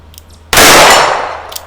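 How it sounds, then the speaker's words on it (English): A revolver bullet from a Smith & Wesson Model 19 strikes a steel gong target at an outdoor range, giving one loud, sharp metallic clang that rings on and slowly fades. "I like the sound of the gong."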